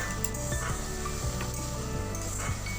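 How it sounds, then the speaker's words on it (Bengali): Tomato puree being fried down in a pan, a soft steady sizzle with occasional spoon scrapes and light clinks against the pan. "এবার দিচ্ছি মাঝারি সাইজে 2টো টমেটো পিউরি দিয়ে ভালো করে কষিয়ে নেব"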